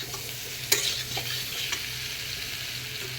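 Frying with stirring in a pan while cooking a Bengali fish curry with kohlrabi and potato: a low continuous sizzle with a few sharp spatula scrapes and clinks, close but fairly quiet.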